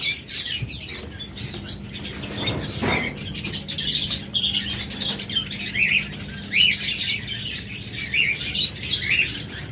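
A full set of caged lovebirds and budgerigars chatters continuously, with dense overlapping chirps and tweets close by, a low steady hum underneath and one dull thump early on.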